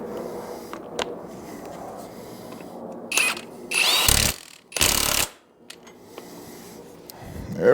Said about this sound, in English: I just need to put the nut and washer back on.